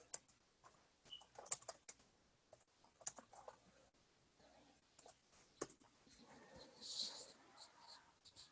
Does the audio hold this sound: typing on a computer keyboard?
yes